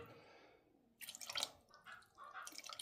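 Water is added to a frying pan holding a few chestnuts, giving faint splashes and drips after a quiet start, in short uneven bursts.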